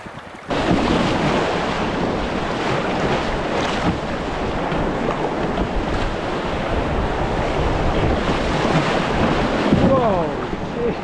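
Strong wind buffets the microphone along the River Dee in Scotland, a loud, continuous roaring gust that barely lets up and masks any other sound.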